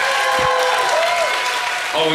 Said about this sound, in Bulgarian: Аплодисменти за момчета за трио БИК